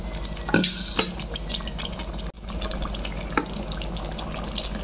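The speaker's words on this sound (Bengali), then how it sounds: "ভালো করে নাড়িয়ে নেব" Chicken being stirred in a pan for chicken pulao, with soft scraping and wet, liquid movement at close range, a couple of sharper clinks standing out against a steady low background, no talking.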